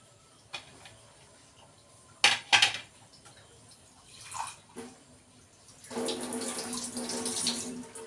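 Tap water gushes loudly for the last couple of seconds as a mixer grinder jar used for mango is rinsed, preceded by scattered clinks and knocks of kitchenware.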